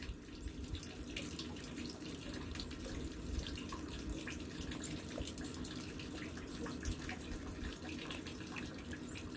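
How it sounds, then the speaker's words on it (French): Sap tubing lines in a maple sugar bush full of running water, giving a continuous soft gurgling, trickling flow with no talk over it. "Les lignes sont pleines d'eau en tout cas."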